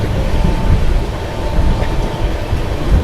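Passenger train rumble with a steady rail roar and low clatter while the Magadh Express overtakes the Kolkata Rajdhani Express in dense fog, heard close and continuous throughout without talk.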